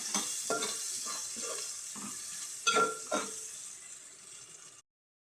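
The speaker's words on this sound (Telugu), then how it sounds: "ఉల్లిపాయలు వేసుకోవాలి. బాగా ఫ్రై చేసేసుకోవాలి." Onions frying in oil with whole cardamom, cinnamon and cloves for a village-style egg biryani, a steady close sizzle broken by a few louder stirring scrapes near the middle, then cutting off abruptly; no talking.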